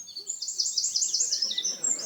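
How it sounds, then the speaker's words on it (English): A bird sings a rapid, high-pitched series of chirps and trills, clear and fairly close against a quiet background. "The sound of birds' song."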